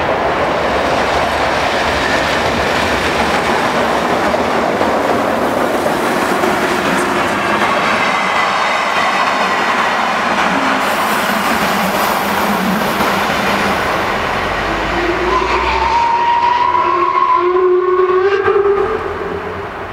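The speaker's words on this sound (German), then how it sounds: "Hier fährt wieder mal der Seehauszug aus der Konstanzer Gegend in den Bahnhof ein" A regional train from the Konstanz area pulls into a station at Engen or Singen, with loud, sustained rumbling and clattering of rolling wagons, then squealing brake tones near the end as it slows.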